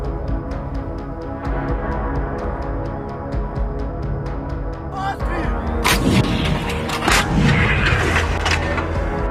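An MT-12 Rapira 100mm smoothbore anti-tank gun fires on a front line, with a loud boom about halfway through followed by several heavy blasts and crackling bursts over a constant rumbling background.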